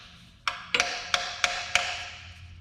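Five sharp metallic bangs of a wrench struck against a car's oil pan during removal in a home garage, spaced unevenly over a couple of seconds, each ringing briefly with no talk.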